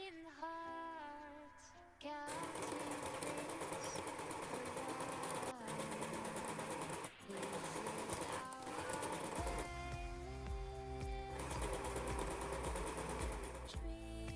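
A sewing machine stitches the side seams of homemade shorts, running in a loud, steady whir with brief pauses, after a short tonal passage at the start, and a deeper motor drone joins near the end.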